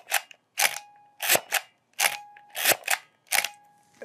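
A Nikon FE film camera with no film loaded, its shutter fired again and again: crisp mechanical clicks and snaps paired with the advance lever's ratcheting, coming in quick pairs roughly every half second to a second, close and loud, with no talking.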